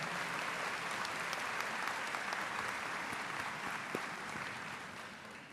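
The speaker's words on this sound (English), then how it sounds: "Give them a big round of applause." Sustained applause from a law school commencement audience, a dense, even roar of many hands clapping that softens slightly toward the end.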